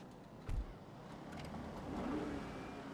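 An electric Bravado Buffalo EVX muscle car, modeled on the 2024 Dodge Charger Daytona SRT EV, starts up in GTA Online with a brief synthetic thump followed by a low, steady powered-on hum.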